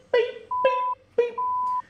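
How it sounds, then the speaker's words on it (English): An electronic timer beep added in editing, two steady mid-pitched tones, each following a short spoken syllable, in a quick alternating pattern. "There we go, I added the beep."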